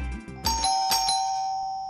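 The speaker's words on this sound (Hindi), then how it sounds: "दरवाजे की घंटी बार बार बजी जा रही है" A doorbell inside a home chimes a clear two-tone ding-dong that rings out and slowly fades, heard alone and fairly close.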